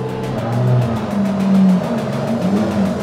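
Car engine in a racing video game starting up and pulling away, a steady low engine drone with rising pitch under game ambience, no talking.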